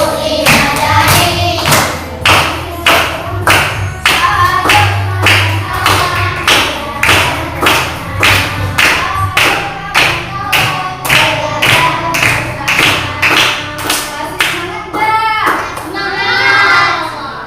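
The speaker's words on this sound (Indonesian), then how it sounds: "Tepuk 3 jari, tepuk 4 jari," Rhythmic finger clapping in a classroom song, with repeated sharp taps in steady groups as the number of fingers rises from three to five, loud and close, while a voice sings along over the beat.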